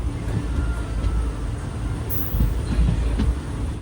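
The Malabar Express, a crowded sleeper train running from Thiruvananthapuram to Mangaluru, rumbles along its rails near Manjeshwaram with a steady roar from inside the carriage and a brief high squeal partway through.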